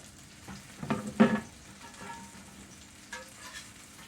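Peppers sizzle in a pan with soft, intermittent frying crackles. A few louder bursts come around the first second and a smaller one later, over a quiet kitchen background.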